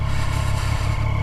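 Triumph Street Triple R motorcycle downshifting on a bumpy downhill road, a loud, steady low engine drone with brief dips and clattery mechanical texture close to the rider.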